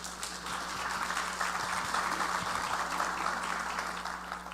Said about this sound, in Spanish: Por favor, un fuerte aplauso para nuestra ponente.